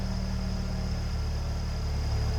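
A 1993 Ford Mustang LX convertible with the 2.3-liter four-cylinder runs at a steady idle, a close, continuous low rumble with an even throb and a faint high whine above it, no voices.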